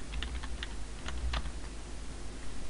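Fast, irregular typing on a computer keyboard, light keystrokes clattering steadily over a low background hum with no talking.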